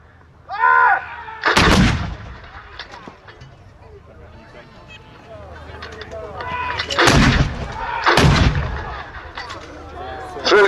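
Artillery guns fire at a wartime reenactment in a series of heavy, booming blasts: one near the start, then two more close together later on, loud and near. A crowd murmurs and voices call out between the shots.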